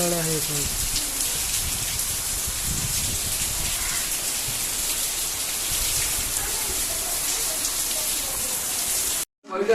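Steady heavy rain hisses continuously, loud and close, with some voices faintly underneath at the start before a brief cutoff near the end.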